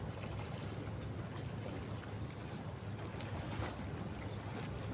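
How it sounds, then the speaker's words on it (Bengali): An empty sand trawler boat's engine drones steadily with a low hum, mixed with wind and water noise, continuous and fairly close. "এগুলো বালির ট্রলার এটা খালি বালির ট্রলার"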